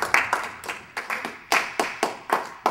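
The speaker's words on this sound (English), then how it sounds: "Would you please give him a round of applause?" A small group claps in scattered, uneven bursts, a few hands close by, at an amateur event's season finale, the claps loud and distinct with short gaps and no talking.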